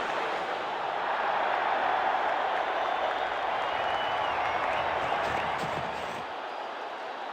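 A large stadium crowd in the cricket video game WCC3 keeps up a steady, broad roar of cheering and applause-like noise, holding loud throughout before easing slightly near the end.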